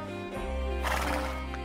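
A horse in the Star Stable video game lets out a loud, close whinny, a bright tonal neigh rising and quivering over a steady game music bed for a brief moment.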